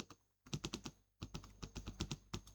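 Fingers type on a computer keyboard while entering a formula in Microsoft Access: two close bursts of quick, crisp keystrokes with a short pause between them, near and clear with no talk.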